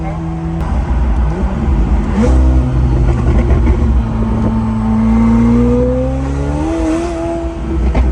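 A McLaren 720S sports car engine drones steadily while driving, its pitch slowly climbing as it pulls, heard loudly from inside the cabin throughout.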